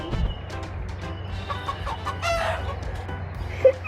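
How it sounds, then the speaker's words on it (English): Chickens clucking on a wooded path on Hawaii's Big Island, a steady run of close, moderately loud clucks with a brief sharper call near the end, no talk. "What do you see? A chicken."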